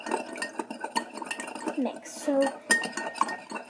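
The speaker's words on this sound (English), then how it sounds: "And then you're gonna get your spoon, regular spoon, and just mix" A regular metal spoon stirring hummingbird juice in a container, producing bright clinks and scraping taps against the sides in an irregular rhythm, close up, with a brief spoken word.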